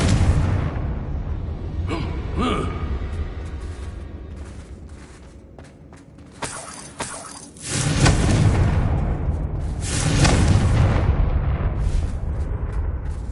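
Confringo blasting spells in a Harry Potter video game burst into loud, booming explosions over a rumbling game soundscape, with a sharp crack early on and heavier blasts later.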